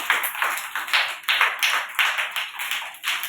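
Anganwadi preschool children clapping hands together in a steady rhythm, about three claps a second, bright and close with no talking.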